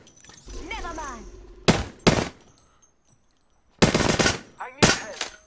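Gunfire in the battle royale game Apex Legends comes in loud, short automatic bursts separated by gaps, cutting in sharply and close between brief moments of spoken chatter.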